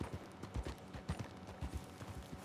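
Horse hooves clip-clop along a trail in the Western video game Red Dead Online, a steady run of near, soft thuds at an easy walking pace with no talk over them.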